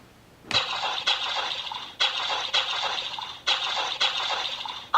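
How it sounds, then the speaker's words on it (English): A cartoon boat engine sputtering out as a storybook sound effect: three paired bursts of rough, clattering putter, each cutting off abruptly, loud and close with no talk. ""Uh-oh," says Donald, as the engine sputters out."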